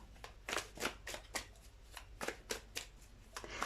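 Tarot cards are shuffled up close in a quick, even rhythm, each riffle giving a crisp papery burst, roughly a dozen in under four seconds, with no voices.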